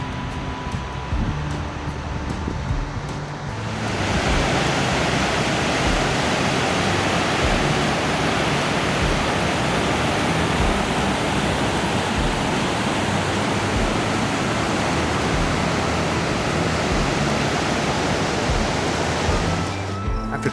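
Hellroaring Creek in Yellowstone rushes in a loud, steady roar of whitewater that swells in after a few seconds, then holds a dense, unbroken wash close by with no voices.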